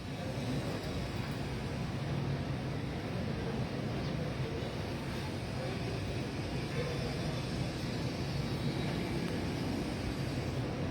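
A helicopter's steady, loud roar fills the air without a break as it lands at Moriones Arena, a dense rumbling drone with no voices over it.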